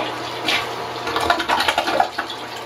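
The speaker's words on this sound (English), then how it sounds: "The toilet will sometimes flush by itself." A toilet flushes on its own with a gurgling rush of water that swells and churns, rising in the second half and then refilling. It is close and fairly loud, with no talking.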